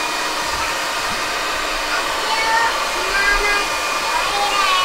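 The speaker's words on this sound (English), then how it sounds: "I'm actually gonna put mine on here and blow dry it." Hair dryer blowing on a freshly glued arts and crafts project, a steady close whooshing roar of airflow running continuously throughout.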